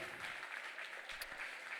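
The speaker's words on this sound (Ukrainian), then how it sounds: "Оплески, поїхали. Оплески, оплески, оплески, оплески." Steady, dense clapping from a concert audience, a continuous wash of applause at moderate volume without pauses.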